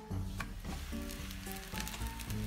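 A tortilla cooks in a hot pan with butter ghee, giving a close, steady sizzle with a few soft crackles and no talking.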